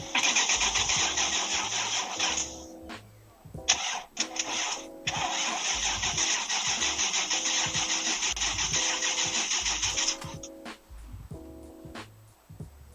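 Truck engine cranking over with a rhythmic starter whir in several attempts, stopping and restarting between pauses, then cranking steadily for a long stretch before cutting out; close and fairly loud.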